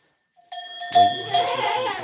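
A goat bleats loudly and close by in a farm pen during kidding season, a drawn-out wavering call repeated in two quick rising cries after a brief faint start.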